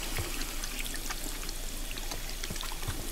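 Water splashes and trickles steadily as hands are washed in the video game Life is Strange 2, a continuous close wash with no voices over it.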